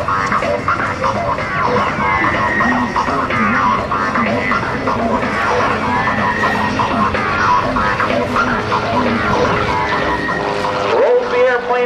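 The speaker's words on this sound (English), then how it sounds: "how maneuverable this little 150 horsepower airplane is, rolling it around as he does a rolling turn" A 150 horsepower propeller aerobatic plane at a naval air station airshow, its engine droning and whining up and down through rolls and climbs, loud and continuous beneath a public-address announcer.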